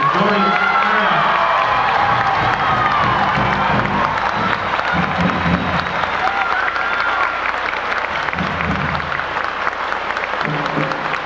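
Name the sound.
applause for retiring Mr. Dorian Parriott at graduation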